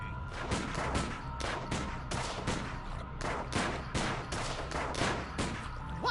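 Gunshots from the video game Sam and Max The Devil's Playhouse ring out as a rapid series of sharp, evenly spaced cracks, a dozen or more in quick succession, fairly loud and clear.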